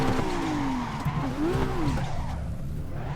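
A car spins its worn tires uphill on the Fujimi Kaido mountain road in Assetto Corsa, giving a wavering, sustained squeal over a steady engine drone.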